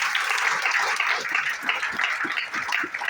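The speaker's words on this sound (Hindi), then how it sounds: "एक बार जोरदार तालियां" Loud, sustained applause from an audience at a business opportunity meeting, dense clapping filling the whole stretch with a few louder individual claps near the front.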